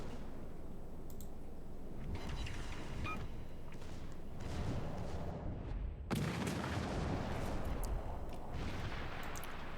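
Warship guns firing in the naval combat game World of Warships: Legends, with secondary batteries joining in: a dense run of booming shots and clattering bursts, loud and continuous throughout, with a sharp heavy blast near the middle.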